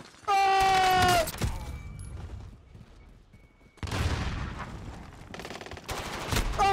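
Bursts of automatic gunfire from a Call of Duty Rebirth Island match rattle in loud, sharp volleys, starting after a whining tone, pausing briefly, then returning in dense rapid strings near the end.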